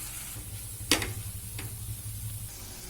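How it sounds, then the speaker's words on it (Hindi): Spices and ginger garlic paste frying in a pan for aloo palak, a low steady sizzle broken by a sharp clatter of a spoon striking the pan and a second fainter knock. "धनिया पाउडर, लाल मिर्च पाउडर, नमक स्वाद अनुसार और जो हमने जिंजर गार्लिक पेस्ट लिया था वो भी हम इसमें ऐड कर देंगे"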